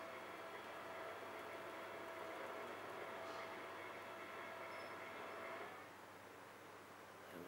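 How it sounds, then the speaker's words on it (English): An ebm-papst K4 motor and drive system on test, rotating clockwise, gives a faint, steady whirring hiss with a thin whine that fades out near the end. "So I initiate the motor to start with, and if I flick this switch, it'll rotate a set number of times clockwise."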